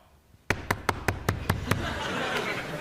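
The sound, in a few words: knocking imitated as a party trick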